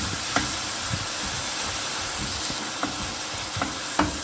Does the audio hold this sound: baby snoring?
no